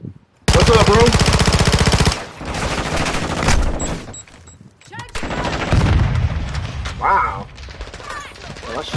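Rapid automatic gunfire and a grenade blast from Call of Duty Modern Warfare 2 on PS5, a long loud burst of shots followed by further bursts and explosive impacts in dense succession.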